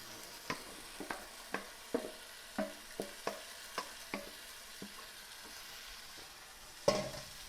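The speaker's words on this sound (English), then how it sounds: "We're going to give that a stir." Spoon stirring tomato puree into a sizzling pan of meatball sauce after the wine has cooked off; a series of distinct scraping taps roughly every half second over a soft, steady frying hiss, ending with a louder clatter.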